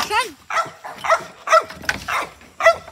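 A hard-working dog gives a rapid series of short, close yips and barks, about six in three seconds, mixed with whimpering and a voice nearby.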